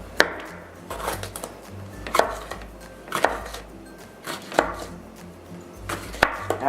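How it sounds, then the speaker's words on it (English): A kitchen knife chops jalapeno for chili on a cutting board, making irregular sharp knocks spaced about a second apart with softer scraping and handling noises between them. "I better cut the jalapeno for the chili"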